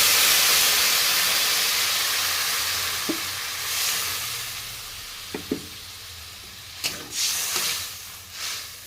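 Tomato and puti fish curry in a pan hissing loudly right after a little water is poured in, a strong steady sizzle that slowly eases, broken by a few light utensil knocks toward the end.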